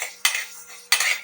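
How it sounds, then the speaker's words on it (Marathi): Moth bean dal roasting in a pan over a low gas flame, heard as two short bursts of spatula scraping and rattling against the pan, separated by a quieter pause. "अशी मटकी डाळ मी अगोदर भाजून घेते"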